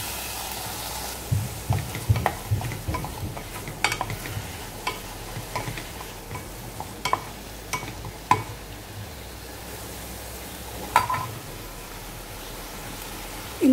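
Garlic, onion, ginger and tomato fry in ghee in a pressure cooker, a soft continuous sizzle broken by sharp spoon scrapes and taps against the metal, close and without speech.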